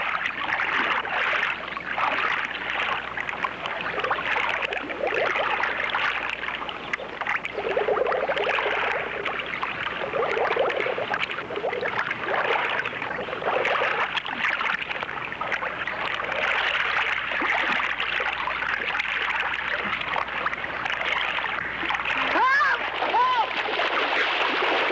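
Continuous churning splashes in a lake, steady and moderately close, with people talking faintly underneath and a voice rising briefly toward the end.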